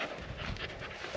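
Puppies pant quickly and breathily, close by, in a short burst of rapid rhythmic breaths without talk.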